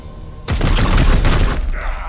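A sudden burst of rapid gunfire erupts in the video game Warhammer 40,000: Chaos Gate - Daemonhunters after a brief quiet and continues loudly for over a second before cutting off.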